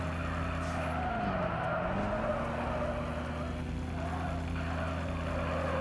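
Car tires skid and squeal while drifting in a JDM street racing game, under a steady, loud engine drone, with a pitch swoop as the slide peaks early on before the engine carries on evenly.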